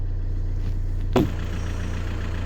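An Audi Q3 2.0 TDI Quattro diesel engine idles after a fuel filter change, a steady low throbbing hum heard close up, broken by one short sharp knock midway.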